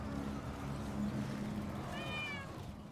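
A house cat meows near a computer during a strategy game session, a short rising meow over steady game audio and background hum.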